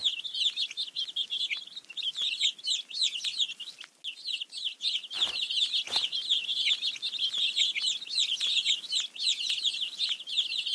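Hungry baby birds in a children's counting game chirp and cheep busily, a dense, bright twittering that runs steadily throughout with a couple of short soft thumps partway, no talking.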